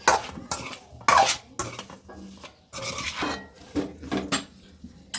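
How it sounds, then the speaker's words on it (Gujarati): Potatoes being mixed into chutney for Saurashtra-style bhungra bateta, loud close clanks and scraping bursts of a utensil against the pan with short gaps, no talking. "હવે આપણે બટેટા ઉમેરશું એની અંદર હવે આપણે સારી રીતે મિક્સ કરી લેશું"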